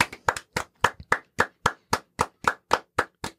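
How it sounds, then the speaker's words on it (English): Close, crisp hand claps, about thirteen in a steady, evenly spaced rhythm with brief silences between each clap, with no other sound around them. "give yourself another round of applause, Jared"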